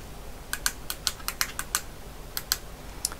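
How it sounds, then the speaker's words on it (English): Paper tape pulled through the tape reader of an MK14 computer, giving a series of faint, sharp clicks at irregular intervals over a quiet background hiss. "Pull the tape through the reader."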